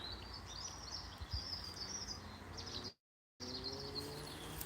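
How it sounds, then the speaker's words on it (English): Faint birdsong twitters steadily in the distance by a pond over a low outdoor hum, briefly cutting out before resuming. "And the birds are singing."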